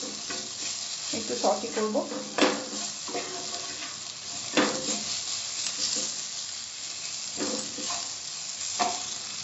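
Dal tadka for a Punjabi restaurant-style recipe is stirred in a pan, with scraping spoon strokes and soft sizzling in uneven bursts, close and moderately quiet, while a voice speaks briefly over it.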